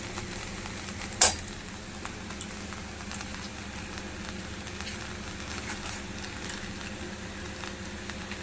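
Soybean chowmein with tomato sauce being stirred in a pan: a quiet, steady sizzle with soft scraping and one sharp clink near the start, no voices.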